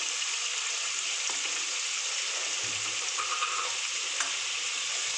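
A spice paste of ground garlic, onion, chili and ginger fries in oil, giving a steady, close, crackling sizzle throughout, with a few soft scrapes from stirring and no voices.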